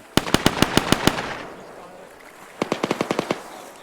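Friendly automatic gunfire in the Arma 3 military video game: two loud, rapid bursts of about seven evenly spaced shots each, separated by a short pause.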